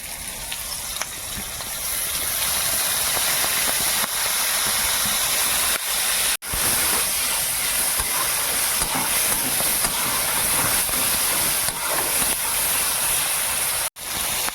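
Tomato and green chili hitting a hot pan of soybean curry with capsicum, a loud, steady broadband sizzle and hiss that carries on throughout, broken by two brief clunks.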